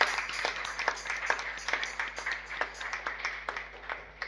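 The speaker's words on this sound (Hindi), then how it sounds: "आइए हम परमेश्वर के लिए एक जोरदार ताली बजाएंगे।" Church congregation clapping together at a Sunday service, a fairly quiet, even rhythm of sharp claps continuing throughout.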